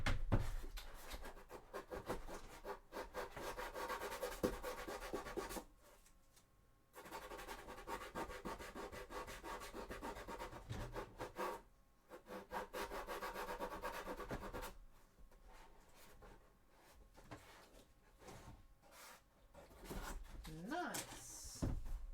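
Steady abrasive rubbing of sandpaper on a cosplay thigh armour piece, repeated in long strokes with short pauses between passes, close to the mic.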